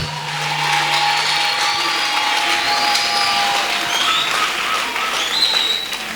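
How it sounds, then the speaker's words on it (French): A church congregation at a Sunday evening service applauds and cheers in praise of the Lord, a dense sustained roar of clapping and voices filling the room with scattered shouts rising above it. "Donc je veux que toi tu acclames le Seigneur ce soir."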